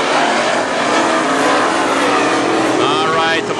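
WISSOTA modified race cars roar around the Princeton Speedway track, a loud sustained engine drone with rising and falling pitch as cars pass, under an announcer's commentary.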